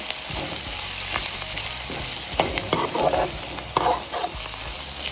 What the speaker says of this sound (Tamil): இதை நல்லா நீங்கள் வதக்கி கொடுங்க நல்லா வதங்கட்டும்